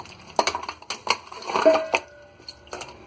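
Goat trotters are put into a metal pressure cooker: metallic clanks and clinks of the pot and utensils, several separate knocks with a short ringing scrape in the middle, close and fairly loud.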